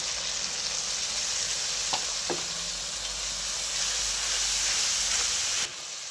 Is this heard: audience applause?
no